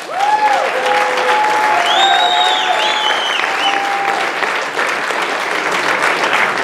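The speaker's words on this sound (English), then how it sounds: "Let's have a big round of applause for Mr." Loud, continuous applause from a crowd at the 2015 Saxon Classic medal presentation, honouring organiser Ryan Alexander, with whistles and cheers rising above the clapping throughout.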